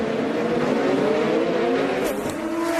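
IndyCar race cars roar along the St. Petersburg street circuit in a loud, continuous engine drone with shifting pitch as cars pass close, and a brief sharper burst near the end.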